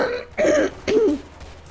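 Two short, harsh coughs or throat clears, close and fairly loud, separated by a brief pause, followed by quiet.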